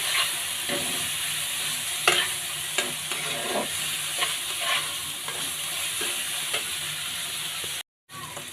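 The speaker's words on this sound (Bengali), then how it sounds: "এখন আমি মশলাটা কষিয়ে নিচ্ছি সুন্দর করে" Spice masala with turmeric and chili powder being fried in a pan, a constant sizzle broken by repeated scraping stirs, briefly cutting out near the end.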